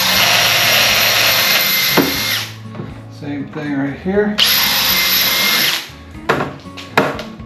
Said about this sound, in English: I'm going to drill a 5/16 hole right up here near the top